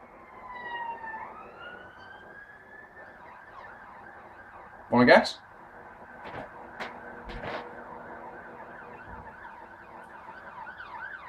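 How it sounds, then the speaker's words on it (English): An ambulance siren passes outside, wailing at a moderate distance under a voice, with a brief loud knock and a few clicks nearby. "Another ambulance. What's going on down there? It's going the same way as well."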